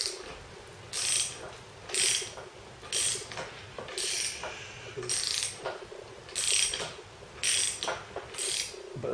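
A puller removes an axle from a swing axle gearbox with repeated ratcheting clicks in bursts about once a second, close and steady over a low mechanical rumble, with no voices.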